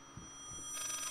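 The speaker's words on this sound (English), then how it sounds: "It's the phone. Answer the fucking phone." A telephone ringing in the horror game Layers of Fear, a faint, muffled trill that swells in at the end over a low, quiet hum, with no talk.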